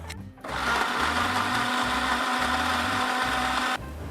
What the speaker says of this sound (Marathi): आता आपण याची बारीक पेस्ट करून घेऊया